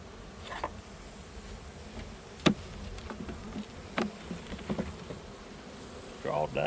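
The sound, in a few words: bees buzzing in a beehive box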